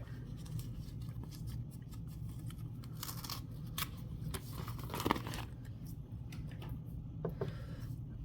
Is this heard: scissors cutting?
yes